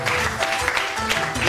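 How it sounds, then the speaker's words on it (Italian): Guests at a year-end club party give a short burst of steady, dense applause, close and loud, with murmuring voices mixed in throughout. "Va bene, dai, un applauso a Deborah Mascalzoni."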